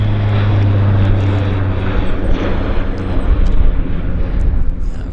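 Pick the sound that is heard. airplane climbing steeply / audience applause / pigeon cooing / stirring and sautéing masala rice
airplane climbing steeply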